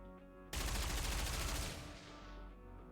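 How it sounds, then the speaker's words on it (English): Gunfire in the Nikke game erupts suddenly as a loud, dense burst of rapid automatic shots, then slowly thins and fades into a lingering roar. "gunfire rains down from the other side"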